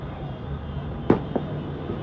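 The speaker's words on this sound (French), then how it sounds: "C'est un truc de dingue, il y a des feux d'artifice, mais partout." Fireworks bursting during street celebrations of a PSG victory in France: a sharp single boom followed by a smaller second pop a moment later, set against a steady background rumble of crowd and traffic.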